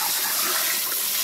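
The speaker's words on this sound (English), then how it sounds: "Can you turn my water on, please?" Water gushes steadily from a sink tap at high pressure, a broad continuous hiss filling the short span close to the microphone with no voices.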